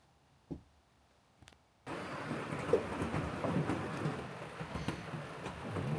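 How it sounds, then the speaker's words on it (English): After a brief quiet moment, a heavy, steady downpour starts at a cabin and keeps up a dense, even roar, flooding the yard. "It's been pouring for hours, and there's actually a lake out in the yard."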